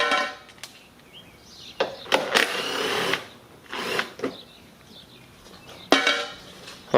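A power tool with a 10mm socket removes front bumper cover bolts on a Lincoln MKX, with several short whirring runs up close, separated by pauses and clinks of metal.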